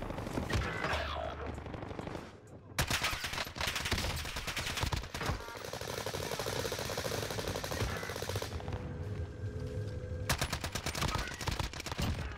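Rapid automatic gunfire from a gun in the video game Warzone, loud sustained bursts with a brief break, then more firing and a few sharp single shots near the end.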